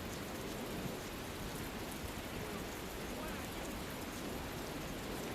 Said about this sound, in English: It's raining. Shouldn't you find shelter?